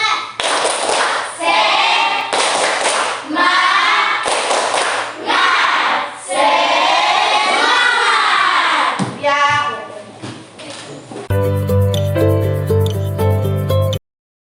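Classroom of students doing a rhythmic 'tepuk semangat' spirit clapping routine, bursts of group claps in patterned beats mixed with chanting voices, followed by a sustained toned sound near the end.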